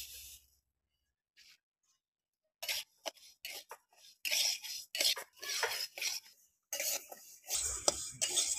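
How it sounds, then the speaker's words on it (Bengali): Moong dal dry-roasting in a dry wok, with scraping and stirring clatter of a spatula against the pan in irregular bursts after a quiet start, close and fairly loud. "এবার মুগ ডালটা আমি শুকনো কড়াইতে একটু ভেজে নেবো।"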